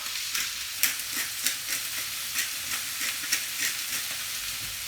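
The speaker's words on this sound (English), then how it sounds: "Going to give it a bit of a stir" Food sizzles and crackles steadily in a frying pan seasoned with black pepper while a utensil stirs it, scraping in a loose repeating rhythm close by.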